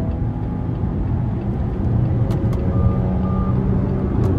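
A 2017 Jeep Compass Limited 2.0 accelerates to overtake on the road, a steady low engine drone and road rumble heard from inside the cabin, with no one talking.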